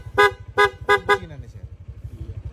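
A Honda Click V3 motorcycle's loud aftermarket horn blasts four short, close toots over the steady low putter of the idling engine.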